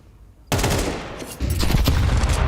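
UMP submachine gun fire in a Counter-Strike match at IEM Cologne 2025, an abrupt loud onset of rapid automatic shots, then a second heavier burst, with no talk over it.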